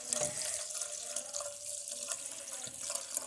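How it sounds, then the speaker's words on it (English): Coffee pours into a cooking pan with a continuous liquid splash and trickle, fairly close and steady, broken by a few small drips and clatters. "We pour a little bit of that coffee in there."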